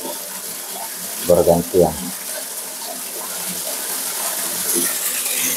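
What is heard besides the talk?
water flowing from a well water pump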